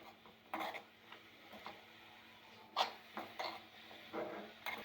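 Spinach and jackfruit seed thoran being stirred in a pan, with intermittent scraping and tapping of a utensil against the pan in irregular bursts, close and moderately quiet.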